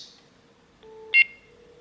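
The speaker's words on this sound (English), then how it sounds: "that beep you just heard, that's the call waiting tone" Call waiting tone on a landline telephone during an ongoing call: a short, clear electronic beep that stands out against a quiet line, preceded by a fainter steady tone.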